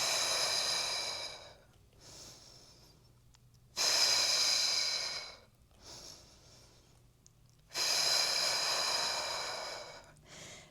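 Three loud, forceful breaths out through the mouth during a mat exercise class, each a long breathy rush lasting a second or two, separated by quieter inhales and pauses.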